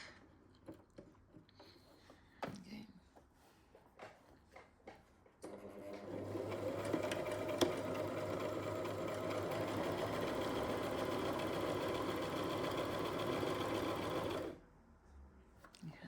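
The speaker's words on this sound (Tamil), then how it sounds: "அதுக்கப்புறம் நம்ம இந்த கார்னர் ஸ்டிச் பண்ணலாம்" A Brother sewing machine stitches a fabric corner, running in a fast, steady mechanical whir for about nine seconds, preceded and followed by quieter handling clicks and rustles.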